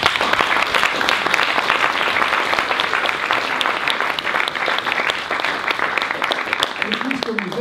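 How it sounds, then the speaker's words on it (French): An audience at a medical anthropology talk applauds a speaker, with steady dense clapping throughout and a voice rising underneath near the end. "et si vous voulez bien de l'applaudir"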